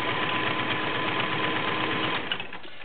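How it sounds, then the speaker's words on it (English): A vintage Kenmore 1660 flat-bed convertible sewing machine with a size 16 needle stitches steadily through fabric, a close, continuous whirring hum that slows and fades near the end. "That is the Kenmore 1660."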